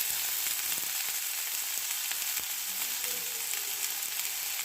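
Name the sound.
chopped ginger sizzling as it is added to frying oil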